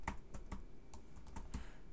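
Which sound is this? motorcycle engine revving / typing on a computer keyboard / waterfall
typing on a computer keyboard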